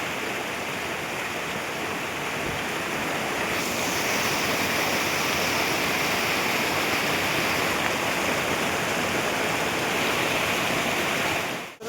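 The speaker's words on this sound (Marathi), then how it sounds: "वर धबधबा बघा" A waterfall pours in the first monsoon rain, a loud, constant roar of rushing water filling the scene from start to end, with no voices.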